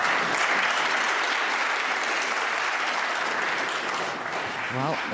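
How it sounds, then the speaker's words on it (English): Snooker crowd applause at the UK Championship final between Neil Robertson and Judd Trump, a steady wash of clapping that holds for about five seconds, with a commentator's voice just starting near the end. "Well, a fake round of applause"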